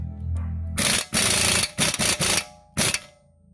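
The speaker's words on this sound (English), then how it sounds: "I'm just going to zap it up here with the impact" Pneumatic impact wrench tightening a sway bar end link during a brake job, firing in several loud, rapid hammering bursts of varying length separated by short pauses, close by and alone.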